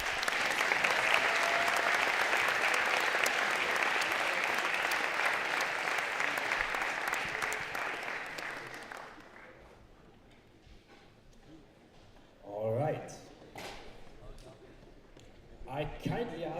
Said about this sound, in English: I want to have you have one last big applause